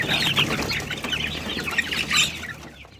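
Farm chicks eat from their feed: busy high cheeping and soft clucks with quick pecking and fluttering, close and steady for a few seconds before fading.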